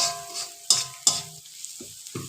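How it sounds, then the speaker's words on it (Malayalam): Sliced onions and green chillies frying in a pan for a bitter gourd curry, soft sizzling broken by a few sharp scraping stirs of a spoon, close and fairly quiet with no talking. "സവാളയും പച്ചമുളകൊക്കെ ഒന്ന് നന്നായിട്ടൊന്ന് മൂത്ത് വന്നിട്ടുണ്ട്"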